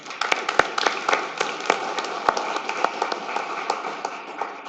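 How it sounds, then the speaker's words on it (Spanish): A room of attendees at a software developer conference claps for a speaker, a moderate burst of many hands with a few sharper knocks, steady before slowly thinning toward the end. "Un aplauso"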